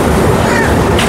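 Mahima Gosai Express from Sambalpur, bound for Shalimar, passing close by as a loud, steady rumble of wheels and carriages filling the whole moment without pause.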